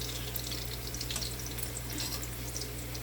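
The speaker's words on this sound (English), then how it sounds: "and then I'm frying it" Quiet, steady sizzling of breadfruit frying in a pan, with a soft crackle throughout and a low background hum.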